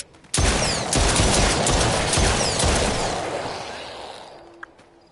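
Gunfire in The Brookhaven Experiment, a VR shooter on PSVR, as a loud close burst of rapid shots and booms that slowly decays into a reverberant tail, with a short click near the end.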